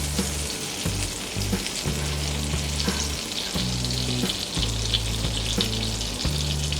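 One tablespoon of butter and a teaspoon of oil sizzle steadily in a hot pan on a gas stove while making white sauce pasta, with a constant close frying crackle and no talking.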